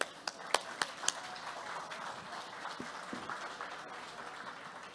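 An audience applauds honored clients at a Banco Agrario de Colombia event in Granada, Meta, opening with a few loud, distinct claps before settling into softer, scattered clapping in a reverberant space.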